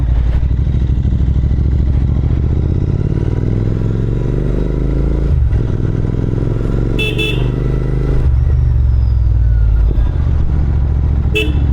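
A Royal Enfield Interceptor 650 parallel-twin rumbles loudly and steadily while being ridden on the road, constant close engine drone with wind buffeting and a brief horn toot from nearby traffic.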